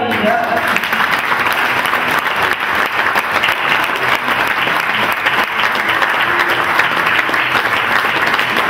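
Sustained audience applause at a live Portuguese folk performance, a dense steady clatter of many hands clapping throughout with a murmur of crowd underneath.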